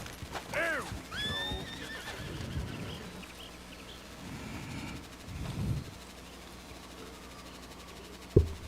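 Horses in Red Dead Redemption 2 give a clear whinny near the start, followed by softer hoof clops and quiet ambience, with a sharp knock near the end.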